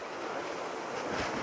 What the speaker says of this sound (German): Hier sind solche Windböen.